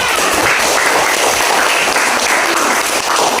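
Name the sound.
applause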